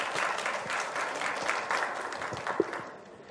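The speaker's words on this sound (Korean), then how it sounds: "큰 박수로 맞아주시기 바랍니다" Dense applause from a crowd, steady and fairly loud throughout, with a few sharper individual claps standing out near the end.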